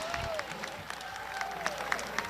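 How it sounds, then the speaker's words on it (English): Crowd outdoors at a City Hall Plaza memorial ceremony applauding a gospel choir, a moderate, even patter of clapping with a few scattered cheers, heard from some distance. "Great round of applause for the celebratory music by the St. Thomas Gospel Choir"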